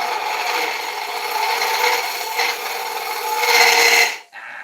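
Woodturning tool shaving a spinning dieback ash bowl on a lathe, a continuous close rasping scrape that swells and fades slightly before cutting off abruptly near the end.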